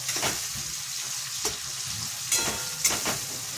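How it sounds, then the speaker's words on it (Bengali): Onions and tomatoes frying in a home kitchen pan, giving a steady close sizzle with a few brief stirring clatters and scrapes throughout, no talking. "আমার পেঁয়াজ ভাজাও হয়ে গেল, টমেটো দিয়ে দিলাম।"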